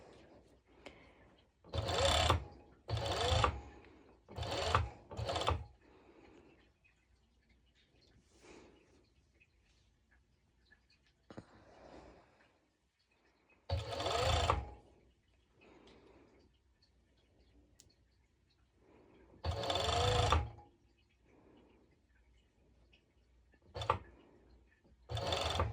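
A serger overlock sewing machine stitches through three layers of mesh fabric in several short, loud bursts of rapid whirring, separated by pauses with faint handling noise.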